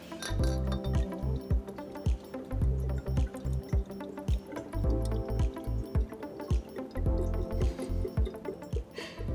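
Rum matured in bourbon barrels poured at a Bundaberg, Queensland cellar door, with glassy clinks, dripping and trickling liquid alongside a rhythmic tapping, fairly loud and close, no voices.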